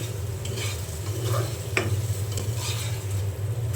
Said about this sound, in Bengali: ধনিয়া পাতা দিয়ে একটু নেড়ে চেড়ে তারপরে আমি নামিয়ে নেব একটু